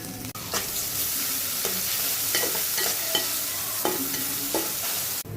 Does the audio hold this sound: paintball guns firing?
no